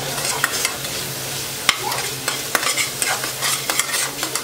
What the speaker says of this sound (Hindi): सभी चीज़ों को मिलाकर अच्छे से मसाले को भूनेंगे, जब तक कि उसमें ऊपर ऊपर तेल ना आ जाए